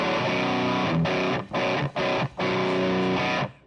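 Distorted electric guitar played through a Two-Notes Genome amp simulator, loud sustained chords broken by three short stabbed gaps, then ringing out before stopping.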